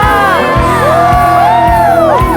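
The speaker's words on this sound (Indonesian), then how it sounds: "Mari bersama-sama kita berikan sorak-sorai sekali lagi yang paling meriah buat Allah kita" A church congregation lifts a loud, close roar of cheering, whoops and shouted praise, voices overlapping in a rhythmic, swelling wave over steady backing music.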